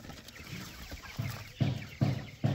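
Australorp hens cluck in a poultry run, giving a few soft low clucks that build to three louder close calls near the end over faint outdoor noise.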